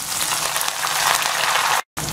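Ginger, onion and curry leaves frying in hot oil with salt added, a steady loud crackling sizzle close up that cuts out abruptly for a moment near the end.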